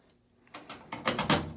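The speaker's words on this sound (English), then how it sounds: "when you open this door here" The door on a new Storm arcade cabinet being opened: a quiet start, then a series of louder clicks, rattles and a scraping knock building toward the end, close to the microphone.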